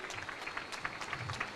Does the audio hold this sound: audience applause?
yes